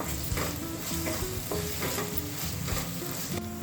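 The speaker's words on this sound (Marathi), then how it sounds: "आलं लसूण पेस्ट पण चांगली परतून घ्यायची" Ginger garlic paste and onion sizzle steadily in hot oil as they are stir-fried for Malvani okra bhaji, with a close, continuous crackle and occasional scraping stirs.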